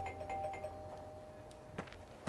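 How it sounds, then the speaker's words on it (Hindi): A soft electronic doorbell chime rings faintly against a quiet background, with a couple of light knocks or clicks toward the end. "कि डोरबेल हुई"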